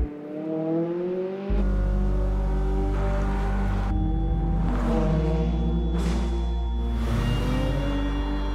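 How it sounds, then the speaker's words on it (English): McLaren 570S sports car engine revving in a deep, loud, close roar that climbs through several throttle blips and pitch sweeps over a heavy low rumble. "The McLaren 570S, designed and built to be driven."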